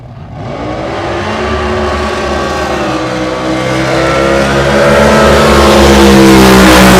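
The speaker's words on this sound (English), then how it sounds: "the Frank Kush boat, KL Engineering. The Sperry, California, Colt TR2 Chevy, 540" A drag racing boat with a Chevy 540 engine roars at Lake Ming during a spring drag boat meet, its loud engine note climbing steadily in pitch and volume as it accelerates.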